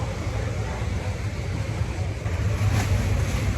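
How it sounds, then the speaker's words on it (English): Heavy rain pours in Bali as a dense, steady broadband wash with a low rumble, constant and close with no voices. "It's pouring rain."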